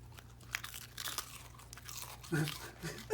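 Crisp, crunchy chewing as a dog bites into dry food, several close crunches in quick succession with a voice speaking softly in between.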